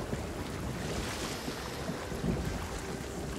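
Steady, close wash of ocean waves in the video game Sea of Thieves, a continuous broadband surf roar with wind-like hiss and no speech.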